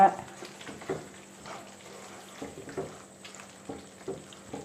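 Spoon scraping and stirring through a thick Hyderabadi mutton gravy with chopped coriander leaves in a pan, a series of soft rhythmic scrapes over a faint sizzle, fairly close and quiet.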